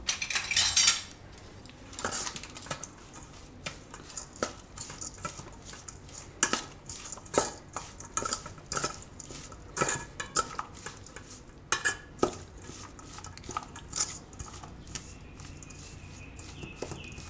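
A spoon stirs and mixes corn pudla batter with gram flour, cheese and salt in a bowl, giving repeated close scraping clinks and taps in an uneven rhythm, with no speech.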